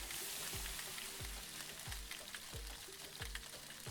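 Whole spices toast in a pan in the cooking game Venba, giving a soft, steady sizzle with a faint low thump recurring about every two-thirds of a second.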